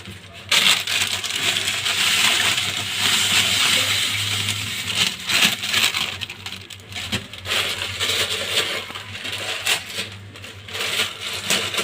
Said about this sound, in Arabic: هفضي بقى فيه في قلبه كيسين سكر.